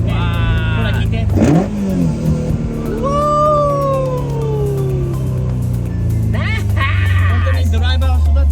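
A Toyota AE86 with a 4A-GE 20V engine revs on a rural American road, its loud rising and falling engine note running continuously, with a cat meowing and voices talking over it.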